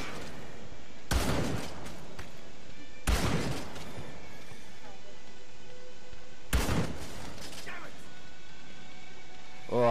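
Gunshots in a zombie video game: three loud, sharp shots spaced unevenly across the stretch, each with a brief ringing tail, with a player talking in between.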